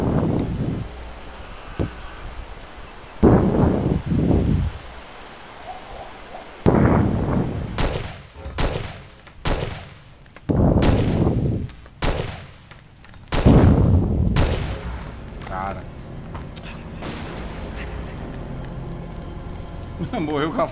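Gunfire in the Far Cry 2 video game: several sharp, loud shots in separate bursts, some close together, with a player's voice talking in between and low wind-like background noise.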